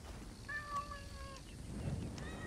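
A cat meows in Assassin's Creed Origins, one drawn-out tonal meow near the middle over steady game ambience, with a fainter second call starting near the end.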